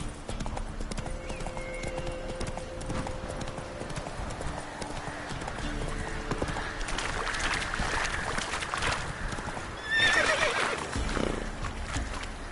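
Roach the horse in The Witcher 3 gallops with loud, rapid clip-clop hoofbeats throughout, and a whinny breaks in near the end.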